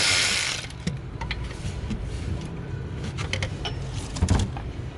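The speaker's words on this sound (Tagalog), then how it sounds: "Using my electric snap-on ratchet." A Snap-on electric ratchet loosens bolts while working on a 2012 Ford Econoline 250 van, giving short whirring and clicking bursts close by, starting with a loud burst and followed by intermittent clicks over a noisy shop background.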